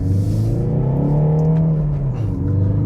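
A Ford Focus ST diesel, the most powerful diesel fitted to a Focus, drives along with a steady, loud engine drone that rises slightly in pitch and then eases off, with no one speaking.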